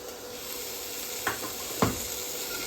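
Onions frying over low heat in a pan give a steady soft sizzle and hiss throughout, with two brief stirring scrapes near the end and no voices.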